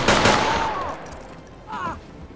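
Gunshots ring out in the tactical shooter Ready or Not as a short, sharp burst of fire with a ringing tail, followed by a second fainter echoing report.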